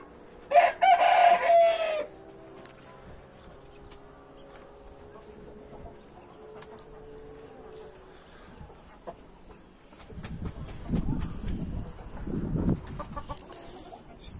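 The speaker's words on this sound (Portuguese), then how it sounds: "Eu trouxe o outro galo pra cima aqui, galera." A rooster in a backyard aviary crows once, loud and close, at the start, followed by quieter background sounds and some soft rustling and shuffling later.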